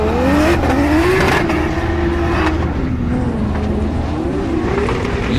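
A BMW E30 drift car screams through a drift run at a competition, its engine loud and close with a wavering, rising and falling pitch as the throttle is worked, with no voices over it.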